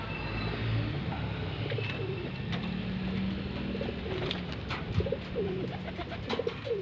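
Pigeons coo in low, rolling repeated calls at close range, set against a steady background hum before feeding, with no voices.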